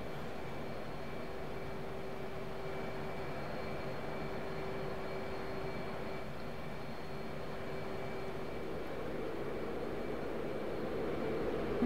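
An F/A-18C Hornet's jet engine runs at full throttle during a climb in the DCS flight game, a continuous roaring rumble with a steady whine layered on top, holding even and unbroken for the whole stretch.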